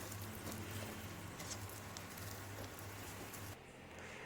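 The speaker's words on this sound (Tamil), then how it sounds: "பூண்டு 1 கிலோ. நல்லா இந்த எண்ணெயிலே ஒரு 10 நிமிஷம் நல்லா வேகட்டும்." A kilogram of garlic cloves fries in a pan of oil for pickle. The sizzle is a soft, dense, steady crackle that patters continuously at a low level with no voices.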